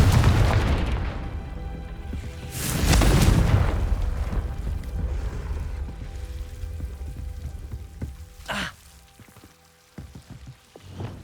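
Confringo explosion spell cast in Hogwarts Legacy, heard as a deep booming burst near the start, a second louder blast a few seconds later, then a sharp crack and fading debris-like rumble, no voices.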